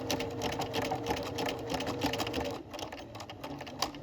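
A sewing machine stitches a buttonhole in quick reverse, giving a fast, steady mechanical whirring with rapid needle clatter, close and continuous with a brief dip partway through.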